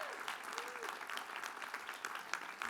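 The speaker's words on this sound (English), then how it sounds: "Let's give her another round of applause." Sustained audience applause at a college commencement ceremony, steady dense clapping from a large crowd throughout, fairly distant and even in level.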